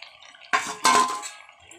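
Fried potatoes tipped into a pan of chicken curry: two distinct clattering, sizzling impacts about a third of a second apart, the second longer and fading, close and fairly loud against near silence.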